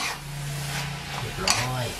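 Chicken stir-frying with holy basil in a hot pan makes a brisk sizzle and the scrape of a spatula, while a voice talks over the cooking.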